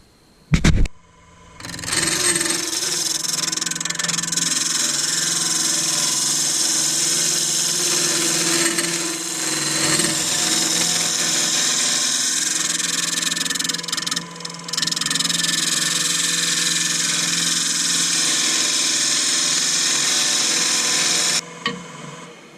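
A lathe turning a resin stick pot gives a continuous scraping, rasping whir that starts after a brief knock, runs steadily for about twenty seconds with a short dip midway, then stops abruptly.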